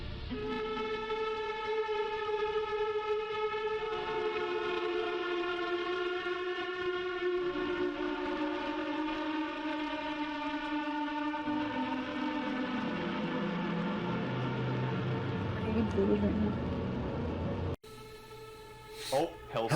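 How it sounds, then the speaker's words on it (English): Eerie sustained tones like distant sirens or long drawn-out trumpet blasts, layered harmonic drones that slowly shift pitch and sink lower, continuous and loud, ending abruptly with a brief different sound. "a sample of music begins to play that sounds extremely eerie, almost like distant sirens or long drawn-out trumpet blasts"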